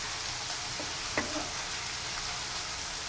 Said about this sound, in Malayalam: ഇപ്പം നമ്മൾ സവാള ഇട്ട് കൊടുത്തിട്ടുണ്ട് നമുക്കിതിനെ നല്ലപോലെ ഫ്രൈ ചെയ്തെടുക്കാം